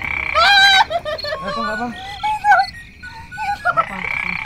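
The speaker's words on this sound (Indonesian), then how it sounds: "Kodok nih Pak." Frogs croak in repeated short bursts at a water ritual in an Indonesian village where participants sleep in water, loud and close, with people talking and exclaiming around them.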